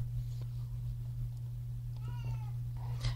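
A house cat gives a single short, faint meow near the end of a quiet stretch, set against a steady low electrical hum indoors.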